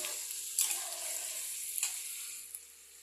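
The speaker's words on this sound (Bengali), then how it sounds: "দেখো বাদাম ভাজাটা হয়েই যাচ্ছে দেওয়ার সাথে সাথে" Peanuts frying in a pan for a chira bhaja snack, a quiet sizzle with a few distinct scraping stirs of a spatula, fading toward the end.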